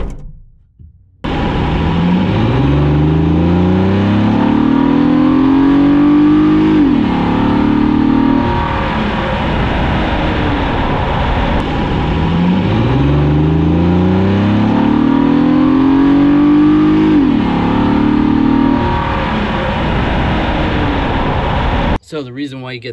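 A VW Atlas with a disconnected mass airflow sensor drives along, its engine picked up from underneath the vehicle as a steady loud drone with rising and falling revs and road rumble, continuous throughout.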